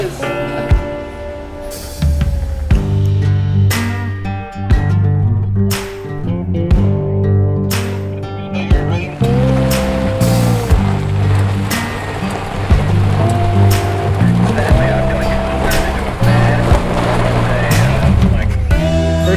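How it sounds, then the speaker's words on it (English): A vehicle drives through a water crossing in the Ozarks, with sloshing, splashing water and engine rumble running throughout, mixed with music and voices inside the vehicle. "First water crossing."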